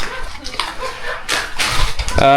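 A dog gives a few short yips and whimpers close by, mixed with brief indistinct voices and some rustling.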